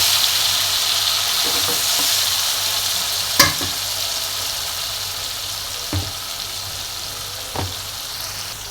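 Masala frying in oil in a pan for a chicken and pumpkin curry, a steady close sizzle with a few spoon taps and scrapes against the pan.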